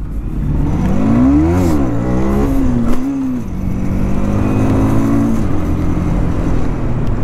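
A motorcycle revving hard while its rider pulls a wheelie on a hot evening at Dhurwa Dam, the engine note climbing and falling in loud, close bursts with no talk over it.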